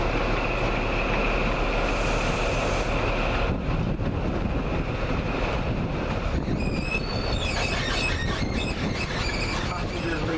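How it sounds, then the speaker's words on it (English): An East Midlands HST diesel train pulls out of Grantham, heard from on board as a loud steady rumble of engine and wheels. High-pitched squeals rise near the end. "We are just now leaving Grantham. And we are on our way back to Nottingham behind an East Midlands HST."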